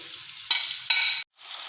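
Haryali boti meat frying on high flame in a pan, loud sizzling bursts that start and stop as it is stirred, with brief quiet gaps between them.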